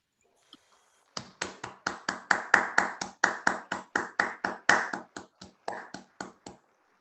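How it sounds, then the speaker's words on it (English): Assembly delegates at a Zoom general assembly clap after a resolution passes, about twenty distinct, evenly spaced claps picked up close, like one pair of hands over a call. "Clapping is in order."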